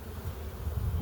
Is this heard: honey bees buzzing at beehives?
yes